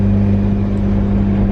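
A Mazda RX-7 sports car engine drones loudly and steadily up close, holding a constant low, throbbing pitch for the whole moment without a clear rise or fall in revs.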